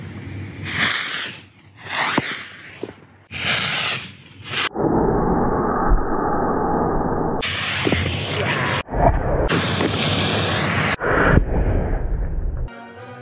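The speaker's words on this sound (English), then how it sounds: "I do have some small commercial rockets around" Small commercial firework rockets launch outdoors at dusk and burst, bringing sharp whooshes and loud cracking pops in uneven bursts, some close and some trailing into sustained fizzing roars, with no talk.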